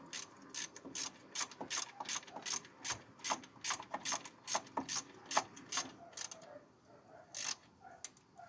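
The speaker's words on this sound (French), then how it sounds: "le petit cliquet." A small ratchet clicks while the driveshafts are changed on a Peugeot 205 XTD. The pawl ticks come in quick uneven bursts of strokes, close but fairly quiet, with no talking.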